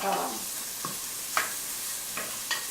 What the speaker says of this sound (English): I'm going to let that saute and just soften those vegetables a little bit